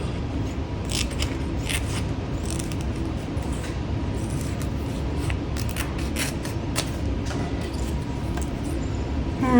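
Scissors snip steadily through a sheet of craft vinyl, a dense run of close cutting strokes over a constant room hum, with no voices.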